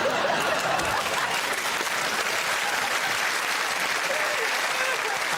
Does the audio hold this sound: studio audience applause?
yes